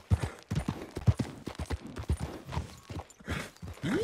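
Horse hooves clip-clop in a steady walking rhythm in Red Dead Redemption 2, fairly close, with a short snort or whinny near the end.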